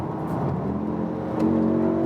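An Audi SQ2 accelerates after a manual paddle downshift, its engine note humming steadily and then climbing in a brief rise of revs, heard from inside the car at moderate volume with no talking.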